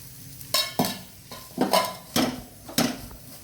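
Mutton gravy with grated coconut frying in a pan, stirred with a spoon in a series of distinct scraping strokes roughly every half second over a soft, continuous sizzle.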